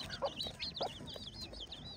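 Village chickens cluck softly and repeatedly while pecking at a mixed grain feed that includes finger millet, with a steady background hum and no voices.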